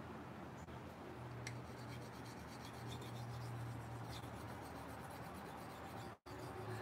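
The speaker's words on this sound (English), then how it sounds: "I am going to have to use this 800 grit right here, Diamond." A blade is rubbed on an 800 grit diamond sharpening stone, giving a steady, faint scraping rasp with a low background hum.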